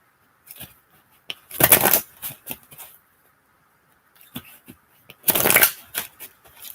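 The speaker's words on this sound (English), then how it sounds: "So as I shuffle, think about whatever it is that you want to know" Tarot cards from an Angel Answers deck being shuffled in two bursts of dense riffling patter, with softer scattered card taps and slides between them, close up and without speech.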